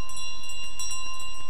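Bells ring in Untitled Goose Game, a bright sustained metallic tone holding steady over a rapid run of light jingling strikes, loud and close with no voices.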